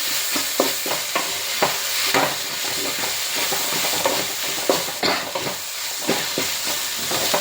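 Curry leaves and green chili being stirred into chicken curry in a hot pan, with a steady sizzling fry and repeated scraping strokes of the spoon throughout, close and fairly loud.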